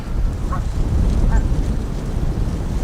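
Ducks on a wintry lake give a couple of short honking quacks at a distance over rumbling wind noise on the microphone.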